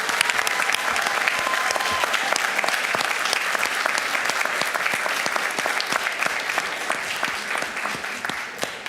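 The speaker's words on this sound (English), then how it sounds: "Will the family and friends of Rosa please stand and let's give her a round of applause." A board meeting crowd gives sustained applause for a staff honoree as family and friends stand, dense steady clapping that fills the room and tapers slightly near the end.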